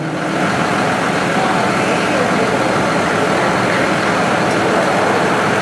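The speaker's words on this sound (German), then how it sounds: "Der Traktor fährt sozusagen alleine." A tractor driving in a parade during a village's 775th anniversary celebration in 2014 gives a steady, loud engine rumble that runs unbroken throughout.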